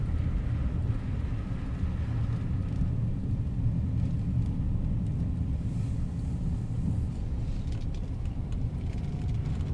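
A car drives along through a park area, heard from inside as a steady low road rumble and engine drone with faint hiss, even and continuous without any talk.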